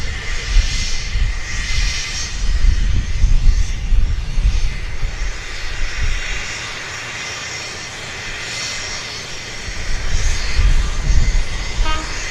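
A Cessna Citation XLS business jet operated by NetJets rumbles and roars at Vancouver Airport, a loud continuous engine drone that swells and eases over several seconds, with no voices.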